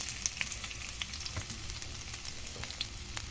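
Spices and garlic sautéing in a kawali for coconut-milk crab curry with vegetables, giving a steady low sizzle with scattered small pops and scrapes, moderately close and without talk.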